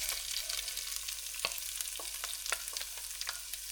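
Chopped onions fry in a pan for South Indian idli sambar, a continuous bright sizzle broken by a few sharp clicks of stirring, with no talk.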